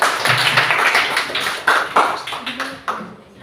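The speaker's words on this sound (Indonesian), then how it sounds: "Tepuk tangan untuk kelompok 3." Scattered hand claps from a classroom audience welcoming group 3 to present their discussion results, a short ragged burst of clapping that thins out toward the end, with faint voices underneath.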